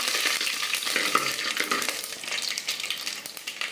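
Dried red chillies and curry leaves crackle and sizzle in hot oil for rasam over a medium flame, a steady close-up frying hiss with small pops throughout and no talking.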